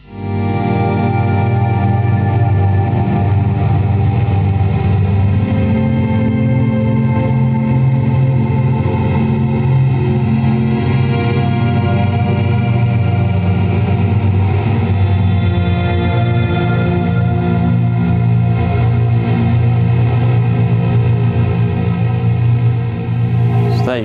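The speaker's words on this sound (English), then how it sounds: "That gives you that bit more cinematic, gritty volume swell" An ambient electric guitar swells in slowly through delay, reverb and a Nano Pog octave pedal, building a thick, gritty, sustained wash of layered tones that holds steady and loud for the whole stretch.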